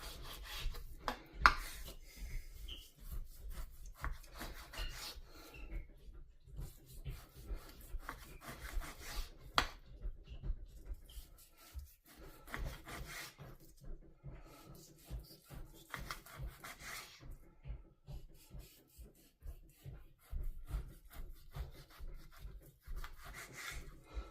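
Knife slicing beef into thin strips for a black bean stir fry, a steady run of soft rasping, scraping cuts against a board with brief pauses, close and fairly quiet.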